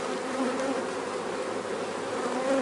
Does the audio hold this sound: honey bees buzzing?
yes